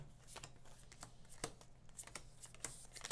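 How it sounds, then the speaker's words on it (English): Board game cards being shuffled by hand at a tabletop session, a quiet series of riffling, flicking snaps at an uneven rhythm, close by, with low room hum underneath. "I'll shuffle them up for you"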